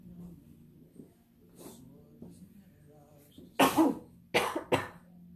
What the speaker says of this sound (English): Sneeze cough.